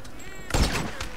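A sniper rifle fires once in a video game, a sharp loud crack that rings briefly over faint background game sound.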